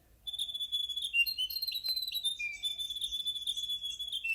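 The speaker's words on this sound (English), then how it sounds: "That's Riroriro, the grey warbler, singing." A grey warbler (riroriro) sings a continuous, high, wavering warble of trilled notes, clear and fairly close against a quiet background.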